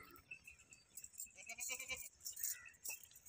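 Beetle breed goat bleating at a livestock sale, several short, wavering bleats scattered among faint background noise and light metallic jangling, fairly quiet and close.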